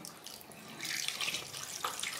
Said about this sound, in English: I just need plain water to rinse it.